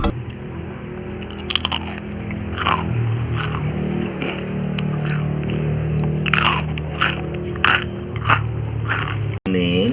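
Someone bites and chews homemade crispy potato chips up close, giving a string of loud sharp crunches and crackles with quieter chewing between them.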